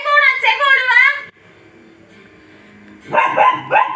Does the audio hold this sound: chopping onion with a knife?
no